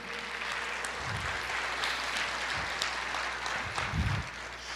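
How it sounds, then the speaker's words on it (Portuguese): A church congregation applauds during a sermon, a moderate wash of clapping with a few louder bursts, heard at some distance in a reverberant hall. "Aplauda, Senhor."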